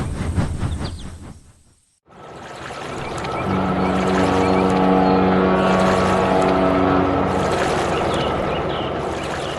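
A deep, steady engine drone from a giant cargo ship, low tonal hum building and holding, loud and continuous, after a brief gap of quiet.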